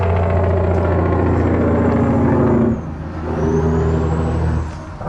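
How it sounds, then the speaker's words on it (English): A truck's engine brake roars steadily with a deep, loud rumble, then dips and builds again as the heavy vehicle passes nearby on the road, alone with no talk. "all the truck drivers out there, wow, those engine brakes, they're needed"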